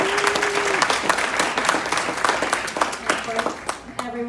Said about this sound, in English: So can we please give a round of applause to Kristen?